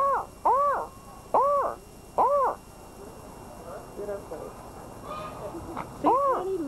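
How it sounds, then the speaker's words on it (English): Birds caw at the Applegate Park Zoo in Merced, California, a series of loud, close, repeated harsh calls in bursts with pauses between, while someone talks softly in the background. "See, look at the birds, Tangier"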